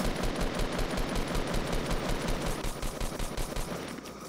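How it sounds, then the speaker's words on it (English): Rapid automatic gunfire in Fortnite, a steady, evenly spaced burst of shots going on for several seconds at moderate distance before it tapers off. "They're shooting at someone else."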